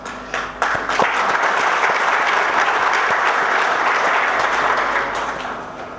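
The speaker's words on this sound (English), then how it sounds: "very clearly evident from the claps that we got from the audience" Dense, sustained applause from a large audience at a business conclave, a steady roar of many hands clapping that builds quickly and fades slightly at the end.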